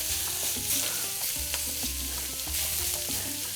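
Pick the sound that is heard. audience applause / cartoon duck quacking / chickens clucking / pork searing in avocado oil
pork searing in avocado oil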